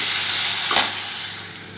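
Onions and tomatoes with salt sautéing in a pan for crab curry, a steady loud sizzle with a short stirring scrape in the middle, close and alone.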